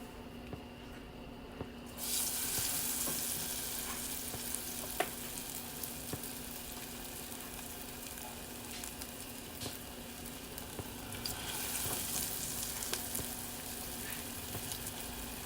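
Battered onion rings frying in oil produce a soft, continuous bubbling sizzle with fine crackles, swelling slightly louder as more rings go in, heard alone without talk.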